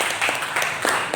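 A short burst of audience applause in a classroom or presentation setting, a few scattered claps lasting about a second at moderate volume.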